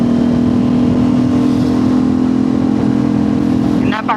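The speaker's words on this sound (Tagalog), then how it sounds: "And this one is equipped with a Zeev project exhaust." An Aprilia RS660 motorcycle fitted with a Zeev Project exhaust runs with a loud, steady engine drone that dips briefly near the end.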